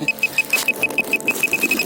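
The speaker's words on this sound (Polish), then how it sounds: "Przepraszam za pikanie." A rapid, steady series of short, high electronic beeps, about a dozen in under two seconds, ringing out over faint background noise.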